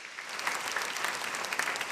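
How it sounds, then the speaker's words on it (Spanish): Applause from a church congregation honouring a standing group of founding women and men during a homily, a steady dense patter of clapping at moderate distance with no talk over it. "démosles un fuerte aplauso a ellas y a ellos"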